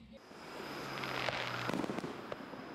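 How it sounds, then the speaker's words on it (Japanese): Fireworks at a night summer festival celebrating a town anniversary, a distant dense crackle and popping that swells over a few seconds with scattered sharper bursts. "日が暮れて夜空を焦がす色鮮やかな花火"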